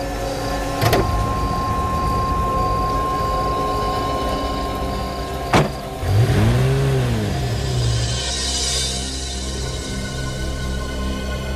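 A car engine hums steadily close by, then revs and pulls away with a rising, sweeping tone, while short sharp clicks and clatters sound at the start; no one speaks.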